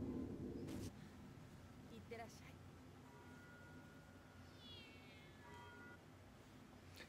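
A cartoon cat in the anime Code Geass R2 gives a few soft, high meows late in the stretch, faint and distant beneath music and background sound, after a brief louder burst at the start.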